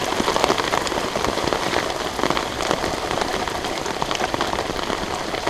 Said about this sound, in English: this was absolutely hammering down the rain